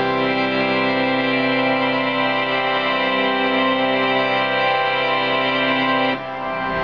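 Pipe organ playing through a swell box, a sustained full chord held steady and loud that drops off sharply near the end as the box closes.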